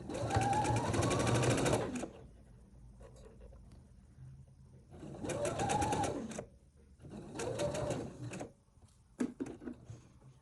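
Domestic sewing machine stitching a V-neck tunic runs in three bursts of fast, steady whirring, separated by quiet pauses with light handling noises and a few clicks.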